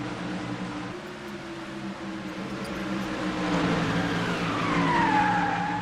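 Race cars at Bristol in a racing video game roar together in a steady engine drone that builds as the pack accelerates, with a rising whine near the end.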